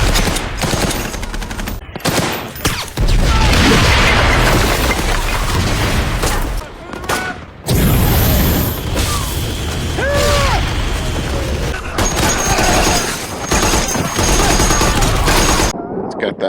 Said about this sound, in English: Aim for the gun port! Short burst!